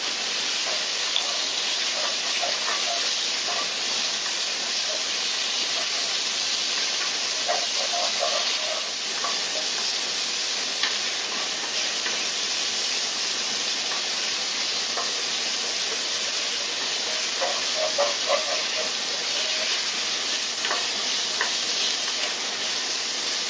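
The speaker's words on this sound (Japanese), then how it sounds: "チョウガと唐辛子を炒めます" Ginger and chili with cumin seed and garlic stir-frying in an iron wok, a steady close sizzle and hiss that goes on unbroken with faint scraping now and then.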